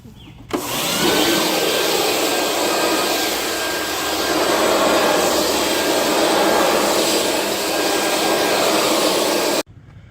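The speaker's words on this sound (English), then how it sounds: "electric blower and blow these leaves off and all the debris that might stick to the Bimini top" An electric leaf blower roars steadily close by for about nine seconds, blasting leaves and debris off a boat's Bimini top, its whine swelling and easing slightly before cutting off abruptly.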